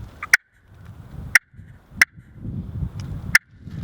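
Four sharp, clicking turkey hen clucks from a friction call, spaced unevenly and standing out clearly over low background rustle.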